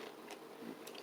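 Teeth bite into firm, past-date Bailey's Irish Cream non-alcoholic baking chips, giving a short, close crunch in a quiet room.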